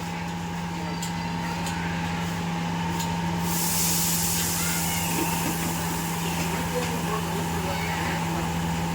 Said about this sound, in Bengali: প্রথমে জল ঢেলে দিল, জল দিয়ে তাওয়াটাকে ধুয়ে দিল